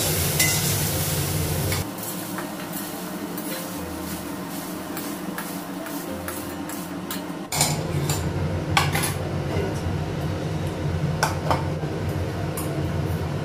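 Oil sizzles steadily in a pan with greens and dried red chilli frying while a utensil scrapes and clinks against the metal, the frying jumping louder partway through.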